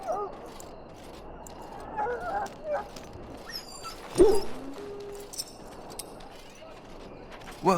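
A dog in Dragon Age whimpers and gives a few yips and soft barks at close range over murky game ambience, with a voice partly present.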